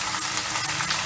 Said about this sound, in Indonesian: udangnya ya, udang kupas kita masukkan